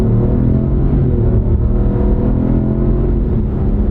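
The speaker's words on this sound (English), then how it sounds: "you'd never think it was a 3-cylinder engine" A 3-cylinder 1.2-liter engine in a luxury-trim car accelerates, a loud continuous low rumble and drone heard from inside the cabin with no talking.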